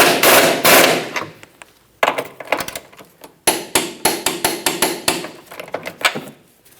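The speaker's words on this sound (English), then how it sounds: "Use our 21mm to snug this up and then torque it to 120 foot-pounds." Sharp metallic clacks of a ratchet with a 21mm socket snugging a bolt on a 2008-2012 Jeep Liberty rear lower control arm, loud and close, coming in quick bursts separated by brief pauses.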